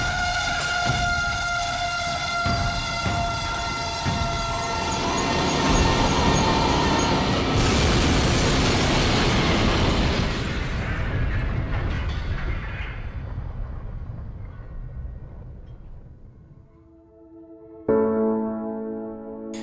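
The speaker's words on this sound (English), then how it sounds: "The two trains collided at the combined speed of 80 miles per hour." Freight trains colliding head-on near Hoxie, Arkansas, heard as a long, loud rumbling roar with a sustained horn blast that fades, followed by a brief renewed horn near the end.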